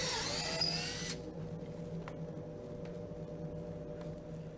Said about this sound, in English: guide the drill bit into the drill guide hole of your choice. Plunge until you reach the depth collar and remove.